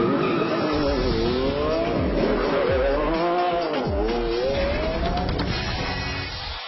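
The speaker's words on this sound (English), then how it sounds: "our delivery method will be this 2012 Lamborghini Aventador LP 704" A 2012 Lamborghini Aventador LP 704 lapping Roebling Road Raceway near Savannah, Georgia, its engine wailing up and down through gear changes, loud and close with brief tire squeal and no talking.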